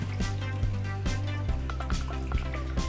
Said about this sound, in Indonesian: Kita bersihkan pakai air mengalir.